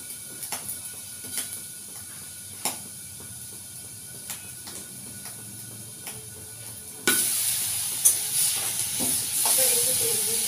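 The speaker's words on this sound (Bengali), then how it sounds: "রসুন, আদা দিলাম।" Garlic and ginger hitting hot oil in a pan with whole spices while cooking soybean curry: a sudden loud hiss and sizzle bursts in near the end after quieter taps, staying close and steady.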